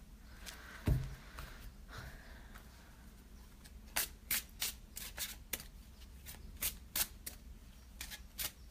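A deck of oracle cards is shuffled by hand in a quiet room, with a soft bump early on, then a run of crisp riffling bursts that come in quick irregular clusters, close and fairly loud, with no talking.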